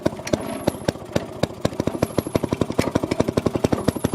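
A Maytag 90 washing machine's Model 92 single-cylinder engine runs steadily nearby, firing in a fast, regular popping rhythm that carries on alone throughout.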